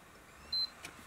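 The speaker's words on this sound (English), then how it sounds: "Okay, there was a second beep." A PS4 Pro console gives a single short, clear beep while its power button is held down, standing alone against faint room noise.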